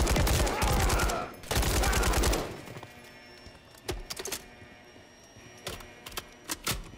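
Bursts of automatic gunfire at a juggernaut enemy in Modern Warfare III, two long loud volleys followed by scattered shorter shots and sharp cracks.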